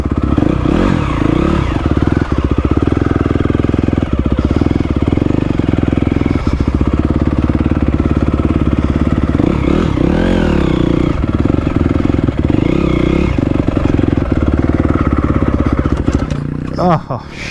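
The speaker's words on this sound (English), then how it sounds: "This bike does not like to start in gear" A motocross bike's engine cranks and sputters continuously while the rider tries to start it in gear, a loud, rough mechanical clatter that never catches and runs on throughout.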